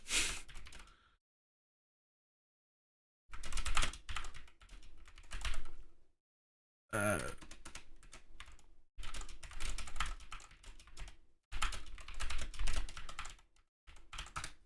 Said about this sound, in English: thought I was typing a timestamp.